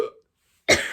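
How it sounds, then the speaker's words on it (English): A single sharp cough bursts out right after a quick breath in, close and loud, following a short silence. "I'm gonna cough because that was such a sharp inhale."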